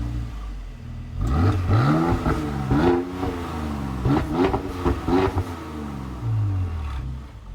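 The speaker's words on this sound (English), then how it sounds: "Let's hear that AMG sound." A Mercedes-AMG GLC engine revs hard several times in a row, loud and close, each burst climbing in pitch and then dropping back before the next one.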